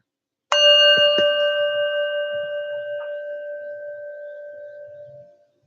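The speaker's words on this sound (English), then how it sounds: "Inhale with each tap of the bell and exhale as the sound fades." A meditation bell is struck once and rings with a clear, bright tone that slowly fades over about five seconds in a quiet setting.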